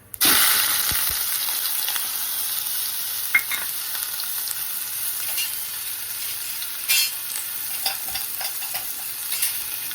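Chopped onion drops into hot oil with cumin and mustard seeds for dhaba-style masala okra, bursting into a loud, steady sizzle with bright hiss, punctuated by stirring scrapes and clinks, no voices.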